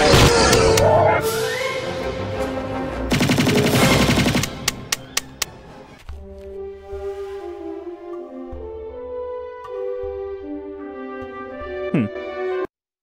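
A heavy weapon fired one-handed in Trespasser lets out a rapid burst of gunfire, then a few spaced single shots before fading, followed by sustained musical tones and a brief swoosh near the end.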